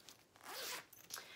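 A zipper on a coral makeup bag with a white zipper is pulled in quick rasping strokes, close and fairly quiet, with brief pauses between pulls and no talking.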